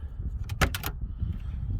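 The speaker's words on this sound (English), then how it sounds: "Open the door." The door of a 1993 Ford Mustang Calypso coupe opens with a quick latch click and a brief rattling clatter, close and fairly sharp against a low background rumble.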